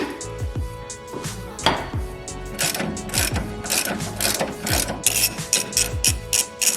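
A ratchet wrench clicks in quick repeated bursts while loosening a 17mm sway bar end link bolt on an R35 Nissan GT-R, close and crisp with a rapid pawl rattle and no talking.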